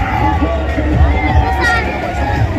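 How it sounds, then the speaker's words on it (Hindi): Dense crowd hubbub at a busy Indian fair, with a continuous wash of overlapping voices and chatter close around and no single sound standing out. "आप देखो भीड़,"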